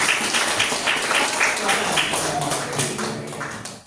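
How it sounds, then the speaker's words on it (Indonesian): Classroom applause from students clapping for a group that has just presented, a dense burst of claps lasting a few seconds under some faint talking. "tepuk tangan buat kelompok satu"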